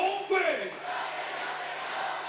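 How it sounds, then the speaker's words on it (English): A home crowd at a women's FIBA 3x3 basketball game in Chengdu, China roars in a steady, broad wash of cheering while a commentator talks over it. "crowd obviously behind their home team"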